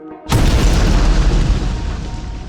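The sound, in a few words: fireworks exploding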